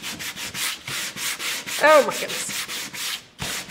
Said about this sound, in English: I don't think you need to see the whole thing be sanded.